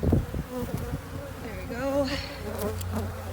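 Honey bees from a nuc box swarm and buzz around the open frames during an inspection, a steady close drone with individual insects passing by, while a person talks briefly.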